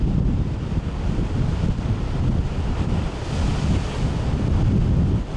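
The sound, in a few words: strong wind on a coastal peak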